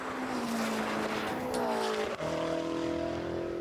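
BMW M5 engine in a drag race, a high revving tone climbing steadily through a gear, a brief break at the shift, then pulling again, heard at moderate distance without talk.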